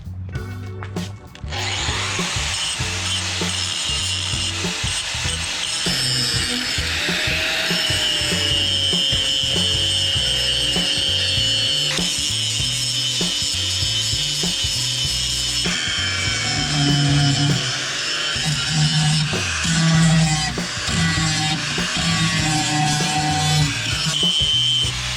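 A 40 grit flap disc on a grinder sands a damaged wheel with a steady, loud abrasive whine and grinding that runs for about twenty-five seconds, shifting in pitch as pressure changes, close by and without talk.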